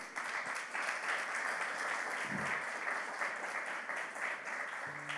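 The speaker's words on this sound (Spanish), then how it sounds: "Un aplauso para el Señor" A church congregation applauds together, with steady crowded clapping at a moderate distance that holds evenly and then begins to fade at the very end.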